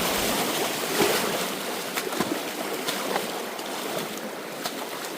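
Fast-flowing river water rushes in a steady, loud, broadband roar during a monsoon jungle crossing near Rajaji Tiger Reserve, with faint splashes and knocks but no talk.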